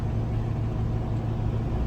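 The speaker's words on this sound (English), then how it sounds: "Typical of driving a semi in the evening hours" A semi truck drives along on an evening run, its engine and road noise forming a steady, close, low droning rumble with no speech and no change in pace.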